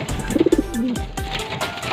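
A racing pigeon coos close by, a quick run of soft throaty notes followed by a longer drawn-out coo.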